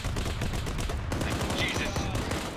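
Sustained bursts of heavy .50 cal machine gun suppressing fire from an infantry vehicle in a military video game, loud and close, with dense rapid reports and faint voices underneath.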